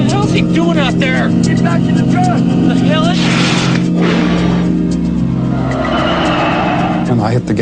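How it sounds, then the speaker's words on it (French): Truck speeding away with tires skidding: a loud, close engine roar with squealing tire skids and rushing noise lasting several seconds. "Pendant que le camion s'éloigne à toute vitesse, Travis se retrouve"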